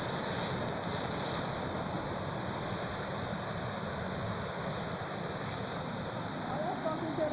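A waterfall on a walking tour, heard as a steady, unbroken rush of falling water that stays fairly faint and even across the whole stretch, with no voices over it.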